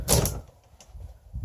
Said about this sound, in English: Nice sliding door here.